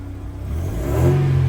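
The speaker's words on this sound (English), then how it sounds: "let's start her up and have a listen to the engine sound" A Mercedes 1.8 engine idles low and steady, then revs up into a rising, throaty drone, close and loud with no voices.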